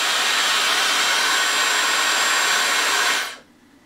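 Dyson Supersonic Professional Edition hair dryer blowing at its highest power setting, a loud steady broadband whoosh with a faint high whine that cuts off abruptly near the end, leaving quiet room tone.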